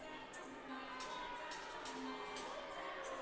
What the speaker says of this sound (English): Excited crowd here at the Turning Stone Resort and Casino.